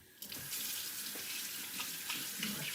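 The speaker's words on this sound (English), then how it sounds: "Wash my hands" Hands washed under a running kitchen tap, a close, steady stream of water splashing into a sink with small shifts as hands move through it.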